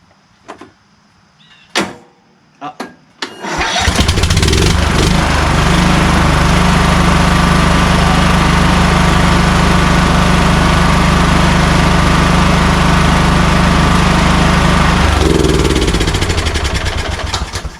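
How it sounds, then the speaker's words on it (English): A few knocks and clicks, then a Kohler Courage 19 hp engine in a Craftsman YS4500 lawn tractor sputters to life and settles into a loud, steady idle that runs on before tapering at the end. "we finally got this engine running smooth"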